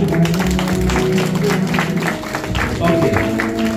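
A church congregation applauds and cheers, a dense steady roar of clapping mixed with voices and shouts throughout.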